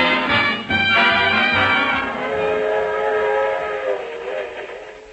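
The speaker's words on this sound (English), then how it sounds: "A suburban railroad station." A train rumbles loudly with a sustained whistle or horn blast at a suburban railroad station, steady and close.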